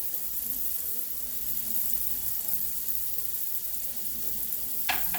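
Shrimp dusted with garlic powder and minced garlic sizzle in a skillet with a steady, close hiss, and a brief clatter near the end.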